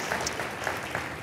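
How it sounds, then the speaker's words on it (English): Conference audience applauding after a marketing talk: a dense, steady wash of hand claps throughout, moderately loud and close, with no talk over it. "Can I just have another round of applause for that?"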